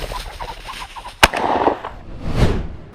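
A sharp crack sounds, then a rooster's harsh, raspy crowing calls out close by outdoors in Indiana, fading over a couple of seconds.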